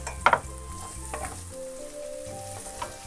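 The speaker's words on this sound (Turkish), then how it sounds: "İyice kavrulan pirinçlere Baharatlarını ekleme zamanı." Rice roasting in a pan with spices, a soft continuous sizzle with a few scraping stirs and clinks near the start.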